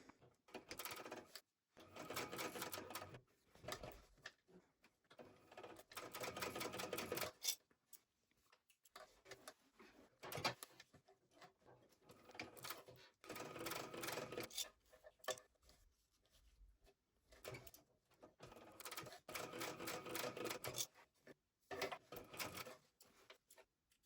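A sewing machine stitches a seam on a small fabric wallet at a 3.5 joining stitch length, running in several short, quiet mechanical bursts separated by pauses.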